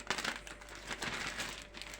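A plastic zip-lock bag being handled in a home kitchen while storing chopped dill for freezing, soft crinkling and rustling in quiet bursts, close and fairly faint, with no talking.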